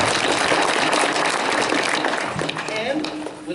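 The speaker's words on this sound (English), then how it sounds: "Give yourselves a round of applause." Audience applause fills the room at a children's theater performance of Johnny Appleseed, a dense, loud wash of clapping that holds steady for a few seconds and then thins slightly near the end.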